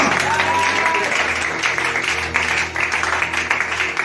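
A church congregation applauding, dense sustained clapping mixed with crowd noise and voices throughout, loud and close, with a person speaking over it.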